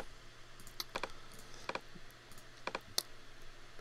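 Quiet computer mouse clicks, sparse and separate: a few sharp taps close by in a hushed room, with no voices.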